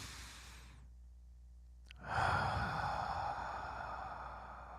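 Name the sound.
deep breath in and out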